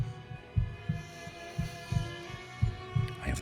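A heartbeat sound effect thumps in a steady double-beat rhythm of low, muffled pulses over a faint hum, about five beats, alone with no voice.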